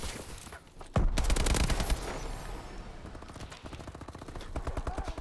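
Rapid automatic gunfire in Call of Duty Advanced Warfare, a sudden loud burst followed by sustained rattling volleys of shots that fade slightly, then swell again.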